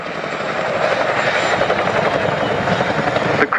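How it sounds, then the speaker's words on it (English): A Chinook helicopter at an RAF Cosford air show gives off rhythmic rotor blade slap, a loud, close, continuous thudding pulse over a heavy engine roar that cuts off abruptly near the end. "the best noise in the world is that bit of blade slap"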